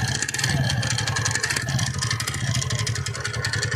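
TVS Ntorq BS6 scooter engine with a knocking fault, idling close by with a steady rough drone and a continuous rapid clattering tick running throughout.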